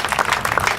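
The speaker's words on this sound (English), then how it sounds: "Please give her a big round of applause." A brief burst of crowd applause at an outdoor groundbreaking ceremony for the Atlanta Beltline Westside Trail, a short flurry of clapping hands under a second long.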